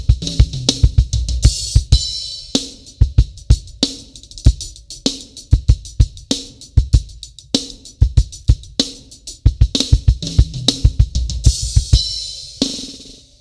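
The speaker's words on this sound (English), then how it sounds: "But then we can choose to now add flams." Full drum kit playing a fast chop with flams added, dense bursts of snare and tom hits over kick drum and crashing cymbals, loud and close in rapid repeating phrases with short gaps.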